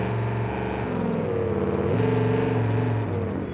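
A 6x6 truck engine in the BeamNG driving game labors and revs steadily while climbing a hill, with a loud, continuous low drone whose pitch rises and dips, and no talking.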